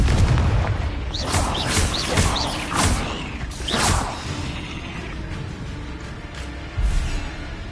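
Hogwarts Legacy video game combat with the Confringo blasting spell: a rapid series of whooshing casts and booming impacts, several bursts in quick succession with creaking mechanical tones, ending in a heavy thud.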